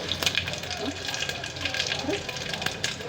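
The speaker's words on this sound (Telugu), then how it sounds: "ఇప్పుడు మనం పోపుకి వేపుకుందాం చిన్న సెట్ పెట్టుకుందాం" Cumin and mustard seeds sizzle in hot oil for a tempering, a close crackling hiss with small popping ticks, while a person talks under it.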